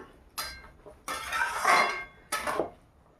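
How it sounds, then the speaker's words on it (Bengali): Metal spoon strokes clink against a cooking pot as fried potatoes are stirred into boiling curry, three separate bursts of scraping and clatter with quiet gaps between. "এবারে ভেজে রাখা আলু এর মধ্যে দিয়ে দিলাম একটু নেড়ে চেড়ে নিলাম"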